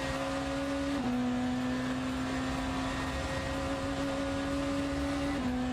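A BMW hypercar's engine drones steadily in the Le Mans Ultimate racing game at Interlagos, the pitch dipping sharply twice as the car crosses a bump or shifts, at moderate level throughout.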